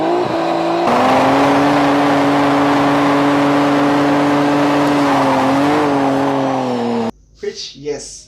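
A Toyota Supra fitted with a twin-turbo V12 holds a loud, steady high-revving drone with layered engine harmonics for about seven seconds, then cuts off abruptly to quieter sounds.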